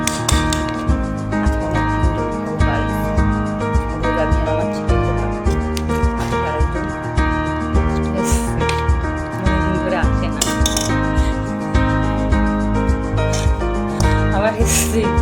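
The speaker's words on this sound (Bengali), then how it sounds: "আর এই আমি এখন ভাত বাড়ছি" Rice is served onto plates at home, with light clinks and taps of dishes and a serving spoon scattered across the clip, mixed under steady music and a voice talking.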